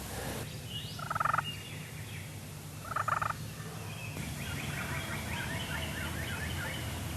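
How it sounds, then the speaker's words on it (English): Two short rattling wild turkey gobbles a couple of seconds apart in Kentucky woods, fairly distant, followed by faint background bird calls. "There's some gobbling going on"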